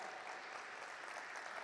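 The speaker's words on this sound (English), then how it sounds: "Can we once again have a huge round of applause?" Steady applause from the audience at the stock-market listing ceremony of Encompass Design India Limited, a continuous even patter of many hands, fairly faint and heard alone.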